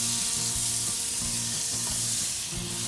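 Two slices of butter melt and sizzle in a hot pan while cooking ground beef with potatoes and vegetables, a steady close frying hiss with no talk.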